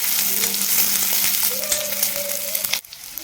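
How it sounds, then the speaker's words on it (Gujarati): Chopped onions sauté in a pan for palak paneer, giving a steady, close, dense sizzle that stops abruptly near the end. "ડુંગળી છે આપણી એકાદ મિનિટમાં તે સતળાઈ જાય"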